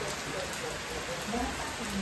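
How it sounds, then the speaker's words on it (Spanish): Steady heavy rain hisses and patters continuously on a morning in Mexico, with faint indistinct voices murmuring underneath. "pero que está lloviendo recio"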